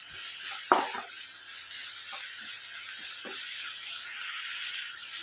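Onions with ginger garlic paste sautéing in a pan for a pea kurma, giving a steady low sizzle. A few stirring scrapes and taps sound close, and no one is talking.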